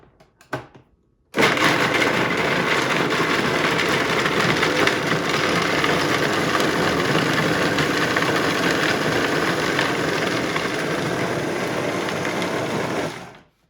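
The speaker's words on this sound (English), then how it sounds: "excuse the noise, I'm going to mix these all up together" A food processor mixing low-sugar chocolate truffle ingredients whirs loudly and steadily for about twelve seconds after a brief click, then winds down.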